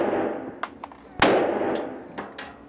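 A Glock pistol fires at a target range at seven yards, with several sharp cracks in quick succession. One report stands out loudest and is followed by short reverberant tails.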